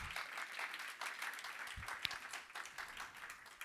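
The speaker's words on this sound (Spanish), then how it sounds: "Dale palmas al Señor." A church congregation applauds during a Spanish-language sermon, a faint, continuous wash of clapping heard from a distance.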